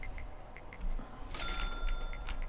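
Church bells in the prison-building game Prison Architect chime faintly and at a distance, a few light, regularly spaced strikes, then a brighter ringing cluster midway through with a sustained tone.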